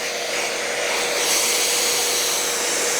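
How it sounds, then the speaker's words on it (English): Craftsman V20 brushless belt sander with vacuum attachment whirs continuously, a loud, steady motor-and-airflow roar with abrasive hiss throughout, no speech. "Vacuum attachment works great."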